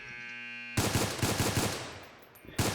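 Rapid automatic gunfire erupts in a SWAT close-quarters shooter video game, following a brief tonal hum. The loud, close burst of shots runs for about two seconds, then a further shot cuts in at the end.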